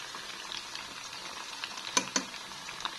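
Small frozen snacks sizzle and crackle in hot frying oil, a steady bubbling hiss punctuated by a few sharper pops and utensil clicks, close and moderately loud with no talking.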